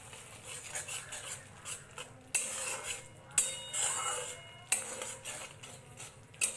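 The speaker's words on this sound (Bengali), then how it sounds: "মশলাটা ভালোভাবে কষিয়ে নেব" A spoon stirs a spice masala of cumin powder, Kashmiri red chili, turmeric and salt in a pan, with repeated scraping and sharp metallic clacks at an uneven rhythm, close and fairly loud.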